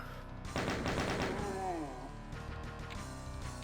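Chaingunner enemies in the Doom megawad Eviternity II, Map 13 'Annihilate Me', fire their chainguns in a dense burst of rapid gunfire. A voice is heard over the shooting, which thins out after a second or two.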